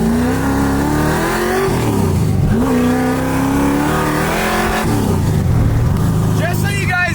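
A 1965 Ford Mustang engine revs and pulls under part throttle, a loud steady drone rising in pitch with a brief shift dip, close by, with voices talking over it.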